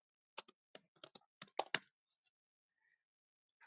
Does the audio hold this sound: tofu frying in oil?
no